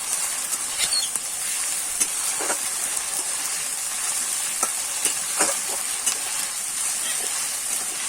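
Ginger-garlic paste fries in a pan with a constant steamy sizzle, while a spatula stirs it, giving scattered scraping taps over the hiss.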